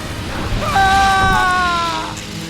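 A character cries out in pain during a Sith Inquisitor interrogation cutscene in Star Wars: The Old Republic, one loud drawn-out strained scream lasting over a second, close and alone.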